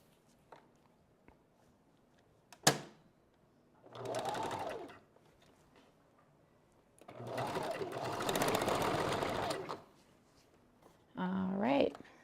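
A sewing machine stitches wig bundles in short bursts, a close rapid whirring mechanical chatter that starts and stops, with a sharp knock early on and a voice speaking in the gaps.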